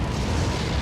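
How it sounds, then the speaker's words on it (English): An incendiary grenade bursts in Resident Evil 4, a low, rumbling boom that fills the moment with a steady, muffled roar rather than a sharp crack. "Time for an incendiary."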